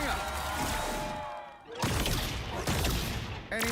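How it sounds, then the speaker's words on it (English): A fireworks ability blast from the video game Marvel Rivals, heard as a burst of crackling, popping explosions with a sharp crash near the end, all loud and close. "Anyone say fireworks? Maximum pulse!"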